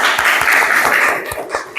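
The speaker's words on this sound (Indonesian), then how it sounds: "Kasih tepuk tangan buat Nafisa." Classroom applause for a pupil, a short burst of many children clapping close by, dense and even for under two seconds before tapering.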